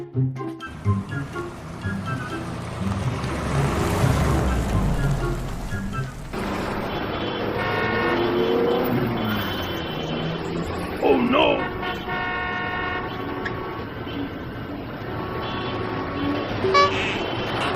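Car horns honk in a traffic jam, with several short toots mixed over steady traffic and rain-like noise, beneath excited voices in a comic dubbed scene.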